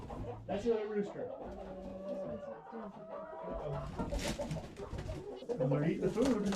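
A rooster crows amid clucking and cooing poultry, with people talking nearby over the birds.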